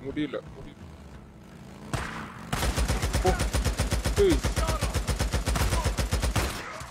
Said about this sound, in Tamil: மிஷின் கன் யாரா வச்சிருக்கா?